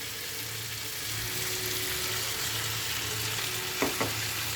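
Ridge gourd, potatoes and a fried egg stir-fry in a hot pan, giving a steady close sizzle with soft scraping of the spatula and a couple of brief knocks near the end.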